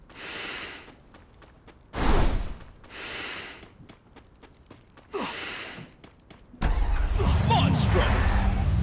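Jeep engine in a Free Fire-style battle royale game on the Bermuda map: a loud, steady engine drone starts late and holds to the end, after bursts of game noise and breathy vocal sounds.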